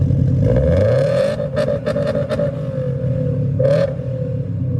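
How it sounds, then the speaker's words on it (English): A car engine with unequal length exhaust headers revs up and settles into a deep, loping exhaust rumble, close by, with a few sharp blips of the throttle. "So unequal length will give you that rumble."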